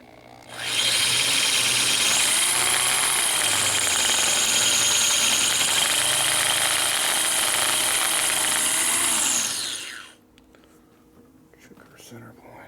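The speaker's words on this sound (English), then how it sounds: "the drill motor slides around on me" A power drill runs continuously for about nine seconds, boring into a 1957 Harley panhead cylinder head, its steady whining motor shifting pitch slightly under load before stopping abruptly, followed by quiet handling noises.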